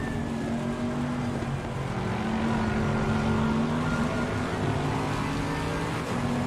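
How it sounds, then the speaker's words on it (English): Bentley race car engine in a racing video game on the Suzuka circuit, a loud sustained drone with a slowly rising pitch, steady and close throughout. "What a good noise from the Bentley though."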